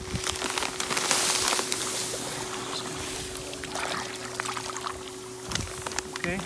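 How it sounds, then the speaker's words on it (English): Fine pool-grade salt pours from a bag into a swimming pool, giving a steady hissing, trickling rush close by with faint splashy water texture, continuous for several seconds without talk. "Okay, you gotta buy salt that's for the pool."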